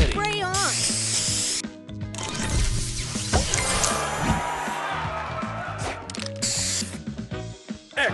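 A spray booster effect in a Splatoon-style video game, a bright hissing spray burst layered over busy electronic music and game sounds, with a voice calling out the booster.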